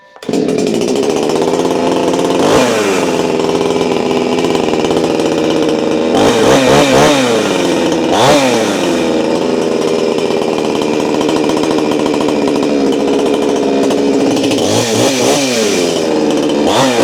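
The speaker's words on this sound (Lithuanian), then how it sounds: "Pabaigiam su šitu pjūkleliu" A petrol chainsaw runs loud and close for a long stretch, droning steadily with several sharp throttle surges spaced through the run.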